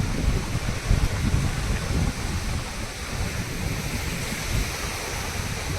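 Sea waves wash over a rocky shore in the rain, a steady broadband roar of surf and rainfall with low rumbling surges throughout, close and continuous with no voices.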